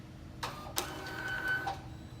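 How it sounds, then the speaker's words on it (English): SM4.25 label printer feeding out barcode tags, a short mechanical whir and clatter of printing lasting about a second in a quiet room. "we're just going to hit the little printer icon"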